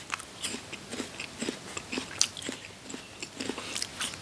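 Crunchy ready-to-eat V Farm water chestnuts bitten and chewed up close, a steady series of crisp crunches at a quick, even rhythm, no talking.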